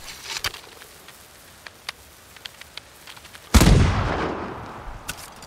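Arrow loosed from a bow in the game Ghost of Tsushima: a sharp, loud whoosh-crack landing partway through, trailing off over a second, after scattered faint clicks.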